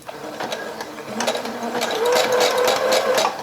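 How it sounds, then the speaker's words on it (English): A sewing machine back stitching while sewing a headband wig, rapid close needle clatter that builds into a louder continuous run of stitching toward the end. "now I'm going to do my back stitching. So I hit my back stitch button."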